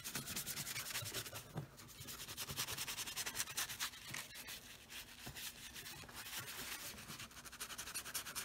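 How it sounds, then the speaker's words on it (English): A lathered brush scrubs hard and fast over full-grain leather oxford shoes fitted with shoe trees during a color change. The close, continuous rasping brushing runs without pause and no one speaks. "You can scrub really hard with it, as hard as the brush will allow."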